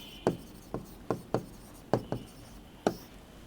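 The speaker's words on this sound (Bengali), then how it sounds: "আমি এখানে লিখে দিচ্ছি" Marker or chalk strokes on a classroom board during a computer science lesson, a series of sharp tapping scrapes in an irregular rhythm, close and moderately loud, with no voices.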